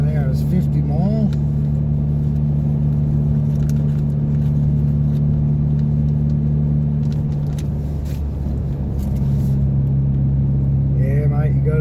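Car engine rumble with steady road noise during a drive near Kalamunda and Mundaring Weir in Western Australia, a constant low hum heard from inside the vehicle, with a voice briefly audible at the start and end.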